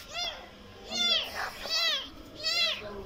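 Three or four plaintive meows from a small cat, evenly spaced and close by, with a brief soft voice in the background between them.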